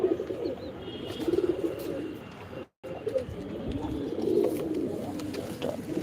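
Pigeons coo steadily in a rundown loft, their low throaty calls repeating close by, with a brief dropout midway and a little background noise.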